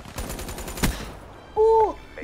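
Call of Duty gunfire, a rapid close burst of automatic shots in the first second, followed by a brief beeping in-game tone.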